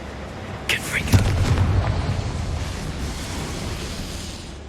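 A Confringo blasting spell goes off in Hogwarts Legacy, a short booming burst followed by a rumbling low tail that fades over several seconds; a voice calls out just before it.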